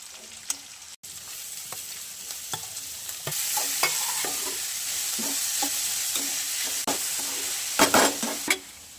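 Garlic and ginger frying in a pan for a restaurant-style veg Manchow soup, with a continuous sizzle that swells louder after a few seconds while a utensil clinks and scrapes now and then.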